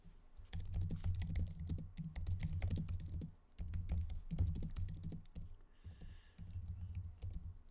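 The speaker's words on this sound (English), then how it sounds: "I'm typing really fast here" Rapid clattering keystrokes on a computer keyboard, typed in quick continuous bursts with a couple of brief pauses, close and fairly steady in level.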